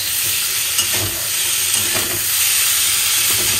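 Brinjal pieces sizzle in hot oil in a pan, a dense, steady hiss with occasional stirring scrapes, close and continuous without speech.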